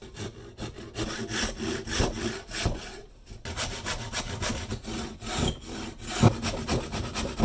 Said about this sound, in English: the handsaw will make it work